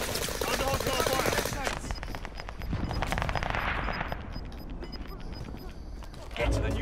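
Rapid automatic gunfire in the battle royale shooter Warzone, dense bursts of shots at close to mid range, mixed with game voices and clattering movement.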